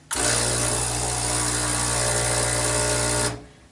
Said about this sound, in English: that just means that the pump is working